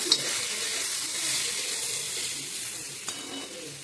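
Garlic, ginger and cashews roasting in a pan sizzle in a loud, even, continuous hiss, broken by one small clink near the end.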